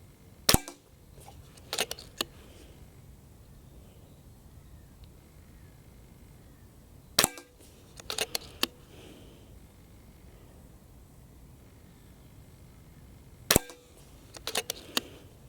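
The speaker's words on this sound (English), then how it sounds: "And I shall shoot 5 more." An FX DRS sub-12 ft-lbs air rifle fires at targets 50 metres out, giving three sharp, isolated shots a few seconds apart, each trailed by faint clicks of cycling the action, in a quiet setting.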